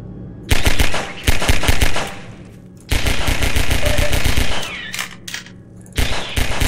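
Rapid automatic gunfire from a weapon in Half-Life 2, loud close bursts of repeated shots separated by short pauses, with no talking.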